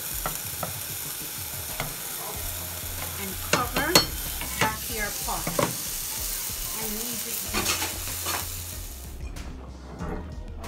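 Creole mahi mahi with tomato ketchup is stirred in a pot over a low sizzle, with a spoon scraping and clinking in irregular strokes close by, and a voice speaks briefly.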